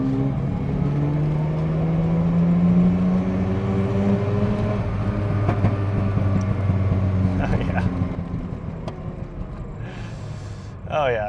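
A 1985 Mazda RX-7 rotary engine winds up in a sustained rev toward 7,000 RPM, its tone climbing and holding loud and close before easing off, with faint voices near the end.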